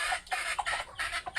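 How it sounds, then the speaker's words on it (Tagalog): Gamecock chickens give a quick series of short, close clucks in an uneven rhythm over about a second and a half. "Yan yung ating tagalahi ng ating mga manok."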